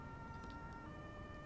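A faint, steady electronic emergency vehicle siren tone in Grand Theft Auto V with a low engine rumble beneath it, continuous throughout the short stretch, no voices.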